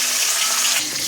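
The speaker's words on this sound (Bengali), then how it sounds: "এই যে এবার মাছটা করবো। কড়াইতে একটু তেল দিয়ে দিলাম।" Catla fish frying in hot oil in a wok, giving a steady, loud, dense sizzle that fills the moment with no break and no voices.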